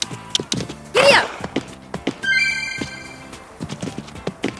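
Horse hooves clip-clop in a riding stables video game, a series of crisp irregular taps with a brief whoosh and a chiming effect partway through, close and fairly loud with no speech over it.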